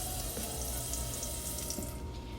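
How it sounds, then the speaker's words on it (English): Water runs from a tap into a cooking pot for vegan chili, a steady close splashing pour that fills the whole moment without any speech. "I'm just gonna add a little bit of water."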